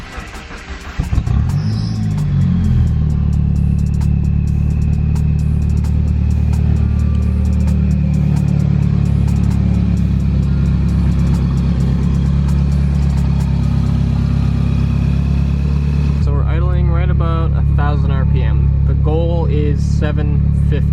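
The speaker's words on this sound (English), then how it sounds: "let's go ahead and fire up the car and see how it idles" A 1991 Mitsubishi Eclipse GSX cranks and starts, its engine then settling into a loud, steady idle with a deep rumble, holding close and constant before the revs shift slightly near the end.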